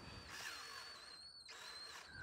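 A power drill bores into the stub of a snapped brake bleed nipple lodged in a brake caliper, giving a high whining tone that pauses briefly midway before resuming, close and fairly quiet.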